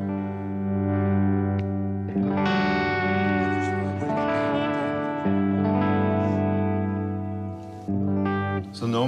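Clean electric guitar through the clean channel of a Friedman Smallbox 50 amplifier, sustained ringing chords with a few strums and changes, no talking.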